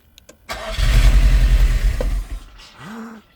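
A Nissan S13 200SX turbo engine cranks and catches, then settles into a rough, loud idle nearby before the revs drop away.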